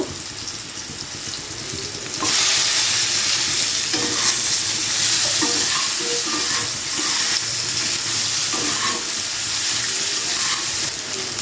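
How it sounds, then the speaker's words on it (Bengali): Drumstick pieces and bitter gourd are stir-fried together in a pan. A loud, steady sizzle runs throughout, with occasional scraping and stirring, and it grows louder after the first couple of seconds. "সজনে ডাঁটাটাকে হালকা করে উচ্ছের সাথে নেড়ে নেব"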